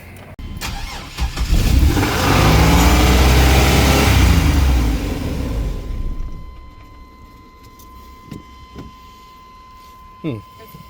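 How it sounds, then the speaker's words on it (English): A van's engine cranks and catches after a throttle cable repair, then revs hard and loud for several seconds before dropping back to a quieter idle, with a voice talking over it. "I'm gonna start this car, hit the gas"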